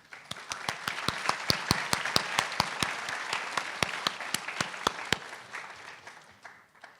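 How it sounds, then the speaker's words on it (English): Applause at a spring graduate recognition ceremony: loud, sharp individual claps in a quick, even rhythm that stop after about five seconds, leaving faint room noise. "And I think they all deserve a round of applause."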